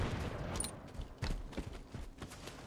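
Gunfire in the Halo 5 video game during a capture-the-flag match on the Refuge map: several short, moderately loud shots land irregularly over a dense game-noise background.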